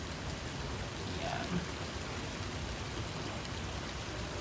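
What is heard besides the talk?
heavy rain dying down after a thunderstorm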